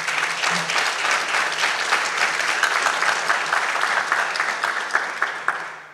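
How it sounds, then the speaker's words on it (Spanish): Audience applause at a mining innovation conference in Peru, a dense, sustained clapping from a large crowd that holds steady and then thins out into scattered claps near the end. "a quien le pedimos un fuerte aplauso para él."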